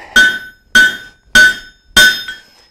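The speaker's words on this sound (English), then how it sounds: "Hammer all this back into shape" A hammer strikes a forged steel cooking trammel four times in a steady rhythm, each blow a loud, ringing metallic clang that decays quickly before the next.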